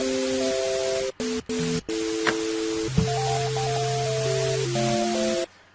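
A synthesizer in FL Studio produces steady sine-wave tones layered over a constant wash of hiss, with stepped pitch changes and brief dropouts, ending abruptly.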